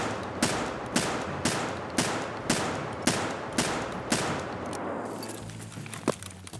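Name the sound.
gun firing .50 BMG slugs in a video game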